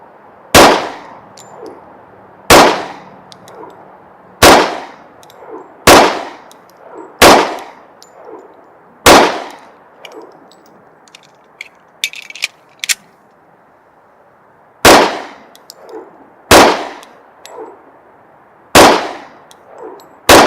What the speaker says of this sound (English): I'm going to go ahead and shoot 3 rounds per circle for this last one.